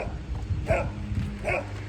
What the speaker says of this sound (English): We got Pete barking